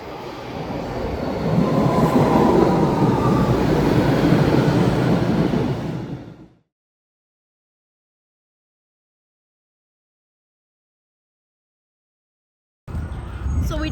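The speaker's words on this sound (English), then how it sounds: "And look at that, the train is here." A train pulls into a station with a loud, steady rumble of wheels and carriages for about six seconds. The sound then cuts to silence, and a brief burst of similar noise returns at the very end.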